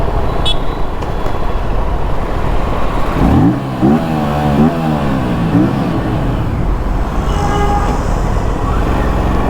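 An Aprilia RS 457 motorcycle accelerates through a tunnel, its engine note climbing in repeated rising sweeps through the gears, loud and close with a booming, echoing roar over constant road noise.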